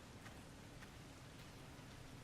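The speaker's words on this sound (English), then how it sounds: "Here comes the rain." Steady rain falls in the video game Resident Evil Revelations 2, a soft, continuous hiss of drops on surfaces, faint and even throughout with no voices.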